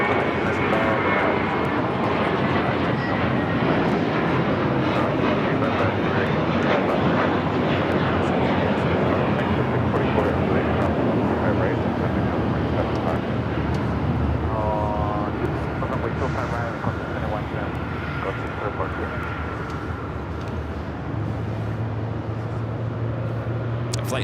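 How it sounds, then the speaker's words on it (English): A JetBlue Airbus A321 takes off from Los Angeles LAX, its jet engines producing a constant, loud roar that stays steady throughout, with people talking over it. "Flight taken off, JetBlue Flight 100 heading to Fort Lauderdale, A321"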